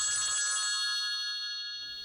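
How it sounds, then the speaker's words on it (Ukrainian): A telephone rings once as a sound effect in a stage play, a bright electronic bell tone that fades away, alone without voices. "Наступного дня залунали телефонні дзвінки."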